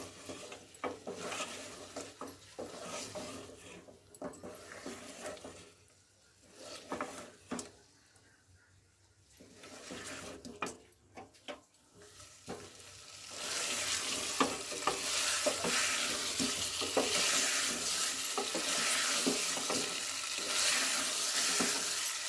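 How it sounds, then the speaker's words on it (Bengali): Potatoes stir-fried with chicken korma masala in a pan, steady sizzling with scraping spatula strokes against the metal, quieter early on and building into a loud, continuous frying hiss. "এবার আমি হালকা হাতে একটু কষিয়ে নেবো আলুর সঙ্গে"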